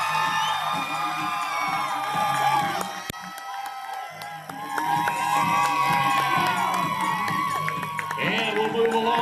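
A large crowd at a Babe Ruth All Stars youth baseball opening ceremony cheering, whooping and applauding loudly for several seconds, with a brief lull before the cheers swell up again. A voice on the PA system is heard through it.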